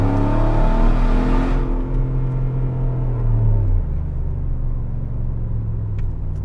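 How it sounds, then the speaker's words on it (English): Close, loud engine roar as a tuned car launches hard with wheelspin during a traction control test, revs climbing then falling away into a steady rumble with a faint tire hiss. "We just totally blasted the tires off."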